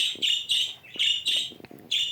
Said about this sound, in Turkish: Arkadaşına ötüyor şu anda.